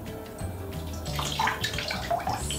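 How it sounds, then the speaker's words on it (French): Bloopies mermaid bath toy in a bathtub spitting water and blowing bubbles, a steady close splashing and gurgling stream with bubbly bursts. "elle fait des bulles en même temps"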